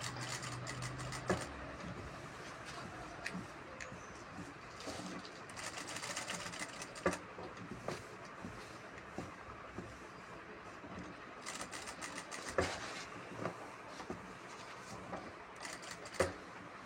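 A sewing machine stitches a churidar, its motor running in steady bursts of close, fairly loud whirring with brief pauses and small clicks as the fabric is turned; no one speaks.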